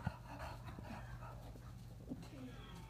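A dog pants softly and steadily at close range, with a few faint whimpers mixed in and someone speaking over it.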